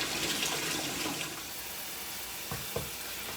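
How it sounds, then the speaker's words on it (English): Cold water runs from a kitchen tap in a steady hiss, rushing loudly at first and then settling into a quieter splatter with a couple of brief clinks, no talking over it. "Y'all, this is cold water."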